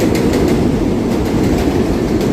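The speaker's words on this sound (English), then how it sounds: "Look, there's the number 1 train right above." A New York City number 1 subway train rumbles past on an elevated track overhead, a loud, steady roar with faint rhythmic clacking of wheels, heard alone without voices.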